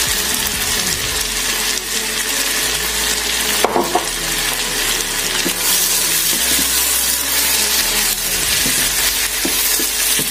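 Spring onion and bell pepper fry in a pan with a loud, continuous sizzle up close, joined by occasional stirring scrapes and clinks, with no speech.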